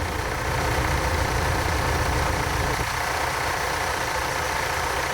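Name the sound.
VW T3 2.1L engine idling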